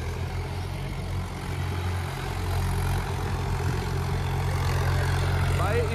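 A Sonalika or Mahindra tractor engine runs steadily, a deep low throbbing drone that holds at an even level throughout, with faint voices in the background.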